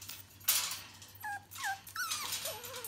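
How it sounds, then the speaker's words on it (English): A mother dog whines and whimpers outside in a few short, rising, high-pitched cries heard at a moderate distance. "You can hear Mum outside whinging because she wants to come in and eat their food."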